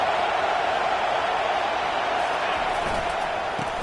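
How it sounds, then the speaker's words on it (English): Stadium crowd in the college football video game NCAA 25 during an Ohio State versus Marshall matchup, a steady, dense roar of many voices filling the space without pause. "this crowd trying to help keep them there"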